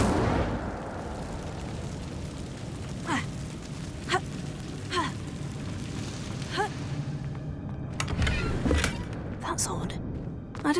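Incendio fire spell cast repeatedly in Hogwarts Legacy: a string of about eight sharp, fiery whooshing bursts at moderate loudness over game ambience, with occasional voice sounds mixed in.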